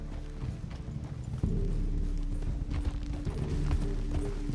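Horse hooves clip-clop steadily at a walking pace on a trail in the video game Red Dead Redemption 2, close and moderately loud, with faint ambient outdoor sound.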